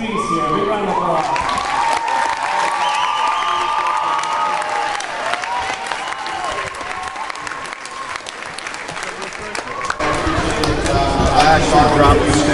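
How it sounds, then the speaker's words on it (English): Sustained audience applause at a Star Spangled Music Day event in 2014, a steady wash of many hands clapping with some crowd noise for about ten seconds before a voice starts speaking over it near the end. "Big round of applause."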